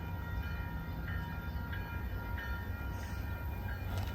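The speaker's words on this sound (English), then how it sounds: "here's a foam shot of me flagging the train, or maybe Link's flagging the train as it arrives" A train pulling into a Boston station, its steady rolling rumble and wheel noise loud and close, with faint horn-like tones near the end and no talking.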